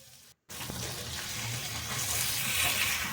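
A pomfret fish frying in oil on a tawa hisses with a steady, bright sizzle that rises slightly in loudness after a brief silent gap at the start.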